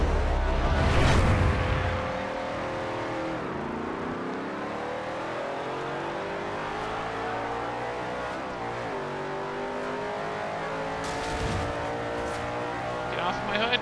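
A race car engine in Forza Horizon 2 roars continuously, rising and falling through gear changes as it revs up, loud and close, with a voice talking over it.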